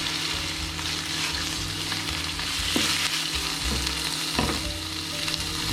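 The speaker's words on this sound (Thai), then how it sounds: "เสร็จแล้วก็ผัดคลุกเคล้าให้ทุกอย่างเข้ากันดีครับ" Pork with shrimp paste and kaffir lime leaves stir-frying in a pan for a southern Thai dish: a steady loud sizzle throughout, with occasional scraping stirs, close up and without talk.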